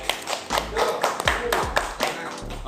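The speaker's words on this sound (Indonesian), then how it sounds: "Yes, tepuk tangan." An audience claps at a history talk, a few seconds of uneven, close clapping with distinct sharp hand strikes and some background voices.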